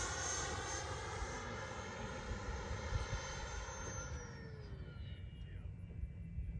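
An FMS Rafale 80mm electric ducted fan model jet with nozzles whines loudly in flight, its pitch sliding downward as it passes and then trails off into the distance.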